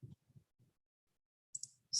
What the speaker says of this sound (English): And I'm just going to left click a few times to where I'm a little bit closer.